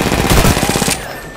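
Rapid bursts of automatic gunfire in the battle royale game Apex Legends, loud and close, rattling for about a second before cutting off into quieter game ambience.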